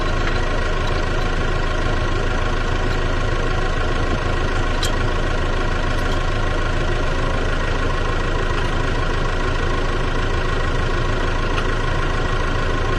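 Lawn mower engine running steadily in wet grass, a loud continuous drone with no change in pitch or pause.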